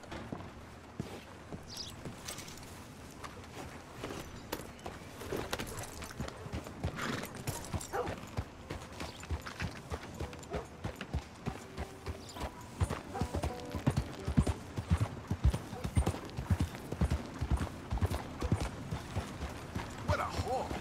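Steady clip-clop of horse hooves walking at an even pace in Red Dead Redemption 2, with occasional mechanical clicks and a faint whinny.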